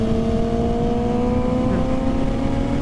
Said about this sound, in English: Do a quick pull on it on second gear.